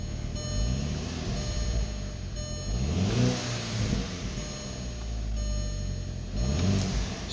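A 2006 Audi A3 2.0T engine with stock exhaust rumbles at idle and revs up several times, its low, steady exhaust note rising and falling with each blip of the throttle.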